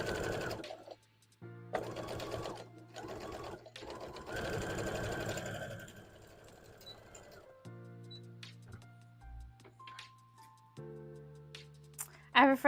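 A sewing machine stitching factory-style production work runs in several steady bursts with short pauses between runs, each burst loud and close, followed by quieter handling clicks and machine whir.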